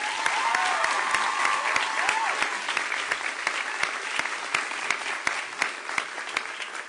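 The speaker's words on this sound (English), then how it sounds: "so give yourselves a round of applause." Sustained applause from an audience of students, parents and staff at a back-to-school education event, a dense steady wash of clapping with a few sharper claps standing out and a faint voice briefly underneath.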